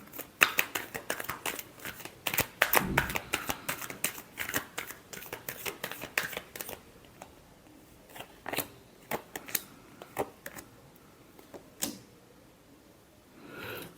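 Tarot cards being shuffled by hand, a close run of quick riffling and slapping card sounds, busy at first and then thinning into scattered taps, with no talk.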